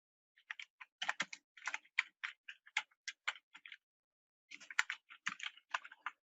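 Fingers typing on a computer keyboard, quick irregular clicking keystrokes close by in two bursts separated by a short pause, quiet and alone with no voice.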